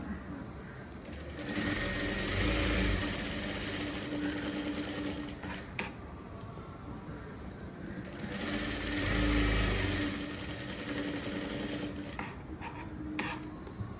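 A sewing machine runs steadily while stitching the front panel of a blouse, its continuous whirring motor swelling louder twice, close and without pauses, with a few faint clicks near the end.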